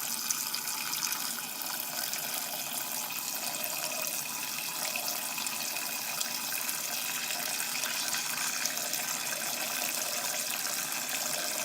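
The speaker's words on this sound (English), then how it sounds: "just put them in the pan and fill it up with water." Water runs steadily from a kitchen tap into a pan, a constant even gush at moderate level with no voices.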